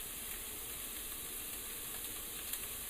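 An onion frying over medium-high heat in a pan, the first step of a farro risotto, giving a steady, soft sizzle and hiss that holds even and unbroken throughout with no talk.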